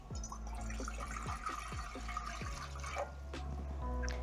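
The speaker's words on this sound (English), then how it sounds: "I have 2 cups of water, so I'm going to add the water in the pot." Two cups of water poured into a cooking pot on a medium flame for hibiscus tea, a steady close splashing pour with a low rumble beneath and small drips, no talking.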